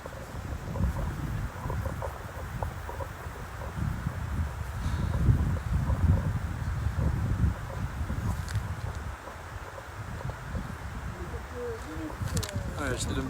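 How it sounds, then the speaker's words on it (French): Light wind blows outdoors at a junior men's cross-country mountain bike race at Alpe d'Huez, a constant low rumbling buffet on the microphone with rustling underneath, and faint distant bird calls toward the end. "Il y a un peu de vent"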